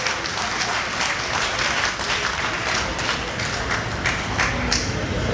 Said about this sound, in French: je vous demande d'applaudir les efforts de l'IG2